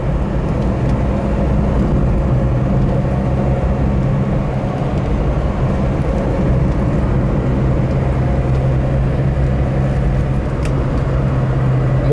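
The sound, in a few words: 1985 Mercury Lynx 1.9L station wagon driving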